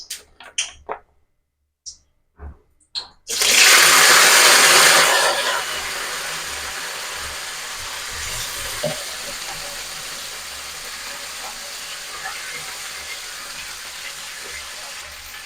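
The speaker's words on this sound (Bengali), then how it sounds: "তেলের মধ্যে প্রথমে আমি দিয়ে দেবো ডাঁটা।" Freshly washed, tender drumstick stalks picked from a home tree hit hot mustard oil with a sudden loud sizzle that swells and then settles into a steady, lower crackling fry, after a few soft knocks beforehand.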